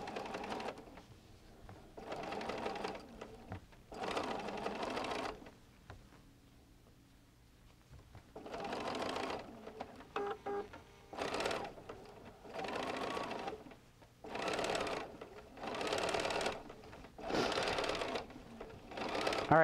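Sewing machine basting a lined Christmas stocking, running in several bursts of steady rapid stitching separated by short pauses, close and fairly loud with faint handling noise in the gaps.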